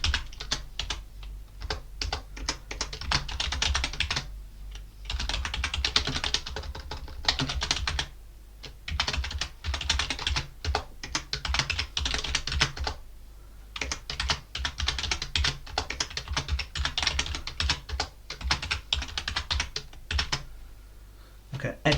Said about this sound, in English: I'm typing out everything you need to create a basic web page.